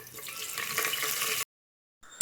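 Curry leaves dropped into hot sesame oil with mustard seeds, fenugreek, cumin and pepper give a close, steady, hissing sizzle that cuts off abruptly, then briefly returns.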